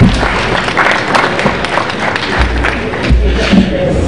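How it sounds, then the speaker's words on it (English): Audience applause as attendees rise at the close of an aviation conference in Nigeria, a crowd clapping amid shuffling, thumps and murmuring voices in a large hall. "And for Pauline Blunt, a warm round of applause for her"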